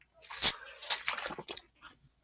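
Sips and swallows from a water bottle, a few small wet slurps and gulps close to the mic, brief and quiet with a short pause between them.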